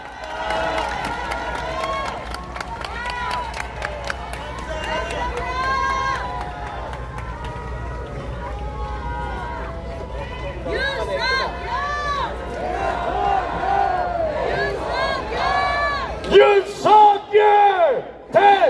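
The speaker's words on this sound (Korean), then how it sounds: "큰 박수와 응원의 함성 보내주십시오" A large political rally crowd cheering, chanting and clapping in a loud, sustained roar with music underneath, swelling into stronger bursts of shouting toward the end.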